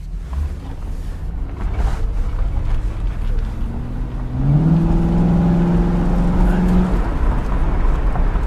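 A 2009 Ford Crown Victoria police car runs as its engine idles at a steady low hum, then revs up and rises in pitch midway through, holding a louder drone before easing off; no voices are heard.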